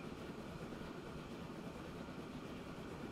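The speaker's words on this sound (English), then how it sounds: "as the train gets onto its correct track" A train rolls along its track in the Transport Fever 2 simulation game, giving a steady, continuous rumble with faint clatter, held at an even level throughout with no voices.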